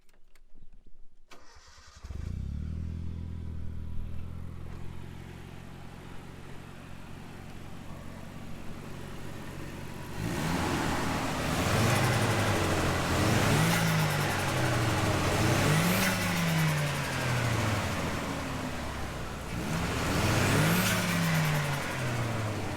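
A Nissan S13 with a CA18DET turbo engine cranks and fires up close by, then settles into a steady idle before several sharp, repeated revs rise and fall near the end.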